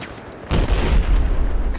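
Heavy gunfire and explosions in the video game Battlefield 4: a loud burst of booming shots breaks in after a quieter lull and keeps rumbling in dense, overlapping blasts to the end.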